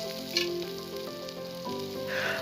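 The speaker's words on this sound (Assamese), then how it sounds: "আৰু পিঁয়াজখিনি প্ৰায় আধা ভজা যোৱাৰ পিছত এতিয়া শুকান মাছখিনি ইয়াৰ ওপৰত দি ল'ম।" Onions and dried fish sizzle steadily in a hot pan while cooking a dried-fish black lentil dal, a continuous close frying hiss with no talk.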